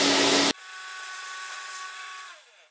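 An angle grinder fitted with a flexible shaft roars at full power for half a second, then drops to a steady high whine that fades and winds down near the end, with no voices.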